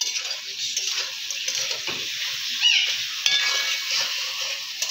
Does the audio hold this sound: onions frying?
yes